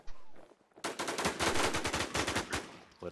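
Rapid automatic gunfire in the survival shooter video game Infestation, a dense burst of loud shots lasting about two seconds, followed by single shots.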